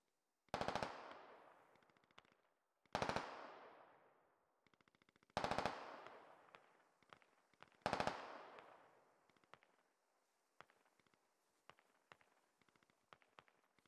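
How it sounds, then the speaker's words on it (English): Gunfire in the tactical shooter Squad, arriving as four loud bursts of rapid shots, each trailing off in a long rolling echo, followed by fainter scattered shots. "I don't know what they're shooting at"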